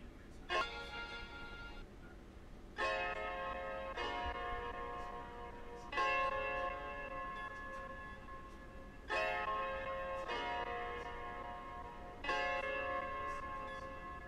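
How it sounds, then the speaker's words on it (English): A beat melody slowed and pitch-shifted down by a beat cutter effect plays as bell-like tonal chords. They repeat in regular phrases about every three seconds, faint and with no other sounds over them. "what it's doing is it's basically slowing or pitch shifting all the melody sounds."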